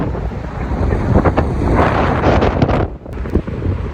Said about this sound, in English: One of the windiest days of the year.